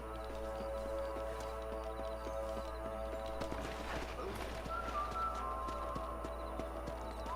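Horse hooves clip-clop at a steady walking pace while out on a ranch patrol in Red Dead Redemption 2, with a faint neigh and soft bird calls over an ambient game soundtrack.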